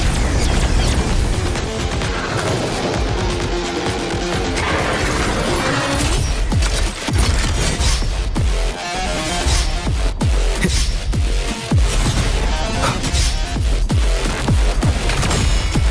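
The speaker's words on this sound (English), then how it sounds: "Fucking knew it was gonna be another explosion." Explosions in the video game Wuthering Waves, with repeated loud crashing and shattering bursts over a dense, continuous wall of game sound.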